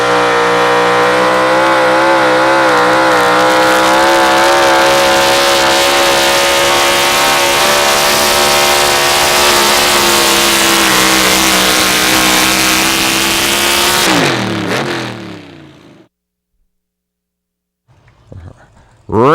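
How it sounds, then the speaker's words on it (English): Pro Stock 4x4 Chevrolet pulling truck at an outlaw truck and tractor pull in Wisner, Nebraska, engine roaring loud and sustained at high revs for about fifteen seconds before cutting off abruptly, with brief noise returning at the end. "Randy Johnson, the Grizzly Chevrolet out of Winterset, Iowa."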